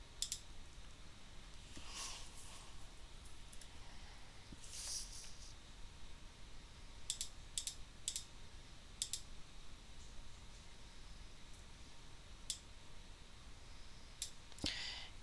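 Faint, sparse mouse clicks sound over a quiet background while PyCharm is installed on a Windows computer, with a few scattered single clicks and short pairs spread across the span.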